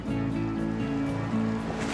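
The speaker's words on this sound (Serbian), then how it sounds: "Rudarsko okno iz kojih teče ova voda." Water pours steadily out of an old mining shaft along the Toplica river, a continuous rushing flow with a deep rumbling undertone, fairly close and uninterrupted, with no voices.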